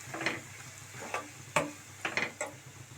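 Bitter gourd fry being stirred with ground spice powder in a pan: several distinct scraping strokes of a spatula against the pan over a low, steady sizzle, close and fairly quiet.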